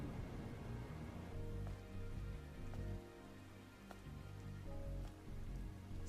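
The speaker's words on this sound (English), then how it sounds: "This must be Earth's rain." Steady, dense rain pours down in the video game Stellar Blade, a continuous close wash of drops on surfaces with faint occasional pings over a low rumbling bed.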